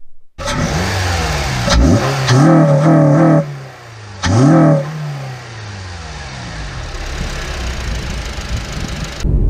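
A Honda Civic FN2 Type R engine fitted with a TSS induction kit revs hard several times with a throaty intake roar, heard from inside the vehicle, then settles back to a rumbling idle.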